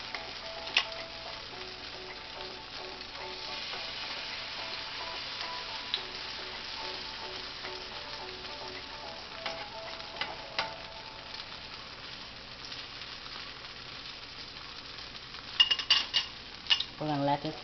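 Corn patties fry in a pan with a soft, steady sizzle, broken by occasional light ticks and a few clinks of a utensil near the end, quiet and close with no talk.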